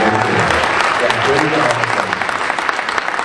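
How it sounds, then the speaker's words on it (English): Audience applause for Chuck at a spring community choir concert: a dense, steady wash of many hands clapping, loud and sustained, with a murmur of voices underneath. "let's give Chuck a round of applause"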